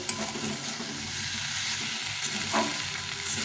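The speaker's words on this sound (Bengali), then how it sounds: "এভাবে সুন্দরভাবে কষিয়ে নিতে হবে মশলাটা" Spice masala with onion fries in released oil for a jackfruit curry, a continuous close sizzle with soft scraping stirs running throughout, a slightly louder stroke near the end, no voices.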